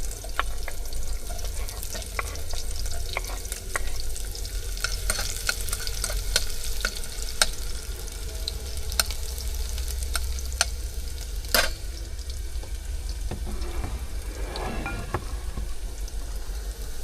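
Garlic and onion frying in a pan while cooking in a truck cab, a continuous close sizzle with scattered crackles and occasional stirring clinks, steady throughout, no talking.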